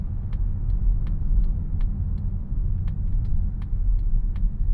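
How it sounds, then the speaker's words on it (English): A steady, crisp ticking of a Mazda CX-50 turn indicator, evenly spaced clicks over a low engine rumble inside the cabin. "That's a really nice, crisp indicator sound."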